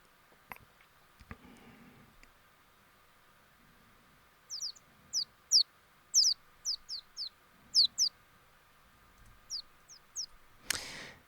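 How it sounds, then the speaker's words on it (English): Short bright bird chirps come in quick bursts of two or three inside a Unity game scene, spaced irregularly over a quiet background with faint soft thumps early on. "so the birds are sounding nice to me"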